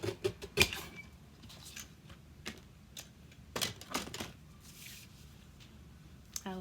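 Scissors snipping a small strip of paper during a craft colouring project, a few crisp cuts and paper rustles, close and intermittent with quiet gaps.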